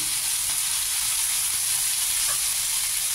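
Tender ridge gourd fries in a hot pan for a vegetarian vegetable dish, giving a steady, close, even sizzle with a bright hiss and faint stirring scrapes, and no voices.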